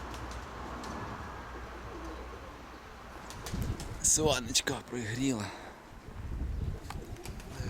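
Grey pigeons settling down coo in a rolling burst mid-way, with a sharp flutter just before, while a person talks nearby.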